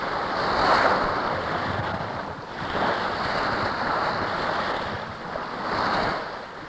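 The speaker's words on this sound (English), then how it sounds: "Flyer sails hard on the wind, crashing into the waves with 30 degrees of heel." Sailing yacht Flyer beating hard to windward, heeled about 30 degrees, slamming through ocean waves; loud broadband rush of surf and wind noise surging in repeated swells, no voices.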